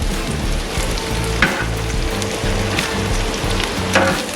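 A heaped pile of bacon sizzles steadily on a Blackstone flat-top griddle, a loud, dense frying crackle that runs the whole time with a few sharper pops and no voices.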